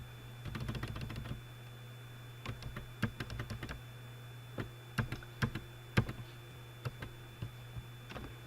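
Quiet keystrokes on a computer keyboard while entering a spreadsheet formula, short irregular clusters of close taps separated by pauses, with a steady low electrical hum underneath.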